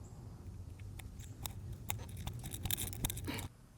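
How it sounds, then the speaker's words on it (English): Regular ratchet turning an 18 mm nut on a sway bar link of a Mercedes W166 ML350, a rapid series of faint close clicks that speed up into a dense burst before stopping. "I'll see if I can loosen it just as regular ratchet."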